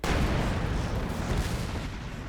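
A grenade blast in the World War II strategy game Company of Heroes 2, a dense rumbling boom that rolls on with low crackling and distant battle noise throughout, loud and without any talk over it.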